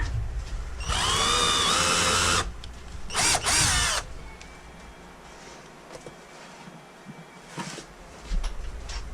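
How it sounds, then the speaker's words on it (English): A power drill whines loudly in two bursts, a long one and a short one, followed by quieter scraping and handling noises. "once you start getting your hole, you can go ahead and bring that drill bit up enough to poke in there"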